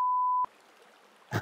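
A small mountain stream in the Rila Mountains trickles and gurgles softly and steadily after a steady electronic beep cuts off, with a brief louder rustle at the end.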